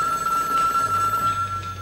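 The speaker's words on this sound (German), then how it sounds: "Was ist das? Telefon." An old telephone bell rings continuously, a bright, steady, close electric jangle filling the whole moment without pause, with only a faint low murmur underneath and no clear speech.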